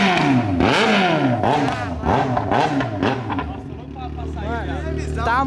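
A new motorcycle with its exhaust stripped down to a straight pipe revs up and down several times, close and loud, then settles into a rough, throbbing idle.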